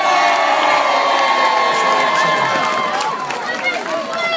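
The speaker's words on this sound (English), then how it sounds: "could you please give Stanley a big round of applause?" A large outdoor crowd at a Christmas lights switch-on event cheers and applauds loudly, with children shouting and whooping over sustained clapping that fades slightly toward the end.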